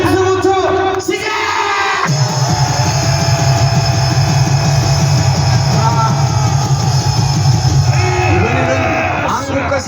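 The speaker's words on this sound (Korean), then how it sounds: "함성부터 시작!" A rally crowd at a civic group gathering cheers and shouts together in a loud, sustained roar that swells after a brief pause and holds steady throughout.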